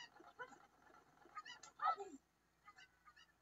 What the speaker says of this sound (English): Fly, chicken, fly!